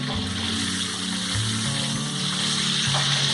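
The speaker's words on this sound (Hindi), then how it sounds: "2 टेबलस्पून हम इसमें पानी ऐड करेंगे।" Water sizzles and splashes into a hot kadai of chicken karahi with tomatoes, a continuous frying hiss with bubbling underneath, fairly close and steady.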